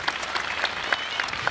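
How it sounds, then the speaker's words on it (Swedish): Applause for a welcomed guest at a school opening ceremony in Torsås, a short burst of quick claps from a gathered crowd with scattered sharper individual claps standing out. "Du får en applåd också nu, Sören."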